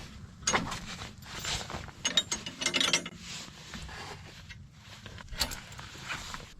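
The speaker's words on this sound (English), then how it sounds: "We're just going to take those pins out and pull this whole thing out of there." Metal pins being pulled from the mower deck linkage of a John Deere 1025R compact tractor, quiet clinking, scraping and rattling clicks in irregular close bursts with pauses between, no speech.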